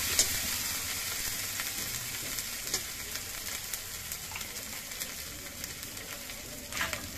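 Onion and garlic frying in a pan as turmeric powder goes in for a loitta fish curry, a soft continuous sizzle with scattered light scrapes and ticks of stirring throughout.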